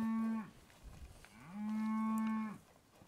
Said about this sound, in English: Pretty good bunch of cows.